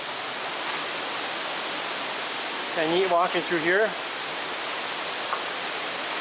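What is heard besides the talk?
waterfall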